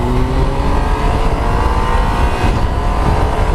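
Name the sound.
2018 Triumph Tiger 800 motorcycle engine while riding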